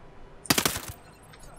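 A short submachine gun burst fired in the video game Ghost Recon Breakpoint, a rapid string of about five or six sharp close shots lasting under half a second, then quiet.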